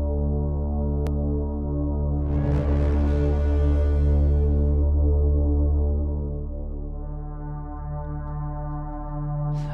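A sustained, droning percussion atmosphere from the Cerberus Percussion library, summed to mono: layered tonal hum with a brighter swelling wash of texture in the middle, settling back into a steady drone, no talk.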